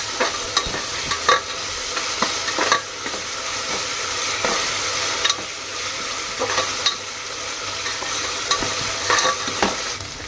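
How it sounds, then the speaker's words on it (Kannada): Onions frying with ginger garlic paste in a pan, a steady, close sizzle broken by frequent scraping stirs of a spoon, with no talking. "ಇವಾಗ ಉಳ್ಳಾಗಡ್ಡಿ ಬ್ರೌನ್ ಕಲರ್ ಬರೋವರೆಗೂ ಫ್ರೈ ಮಾಡ್ಕೊಳ್ಳ್ರಿ"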